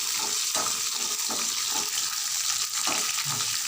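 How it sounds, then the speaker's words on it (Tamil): Onion and green chillies sautéing in a pan, giving a loud, steady, close sizzle with soft stirring scrapes throughout. "வதக்கிட்டு அதோட பச்சை மிளகாவையும் போட்டு வதக்கணும்"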